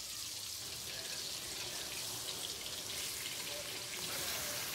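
Pieces of boal fish belly fry in hot oil, giving a steady, even sizzle that stays close and continuous with no talk.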